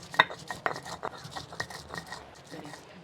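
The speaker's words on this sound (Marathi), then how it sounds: "न भाजलेलं खोबरं आणि लसूण वाटून घेऊया टेचून घेते म्हणजे वाटायला सोपं पडेल" Coconut and garlic are pounded and crushed on a traditional stone grinding slab with a stone roller, making close, irregular knocks and scraping clatters.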